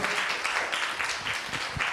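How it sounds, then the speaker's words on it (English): An audience at a student development seminar at Montego Bay Community College claps steadily, a dense, sustained applause filling the room with no break. "So clap yourselves again, please."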